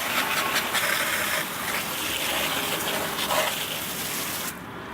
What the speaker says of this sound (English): start rinsing from the top to the bottom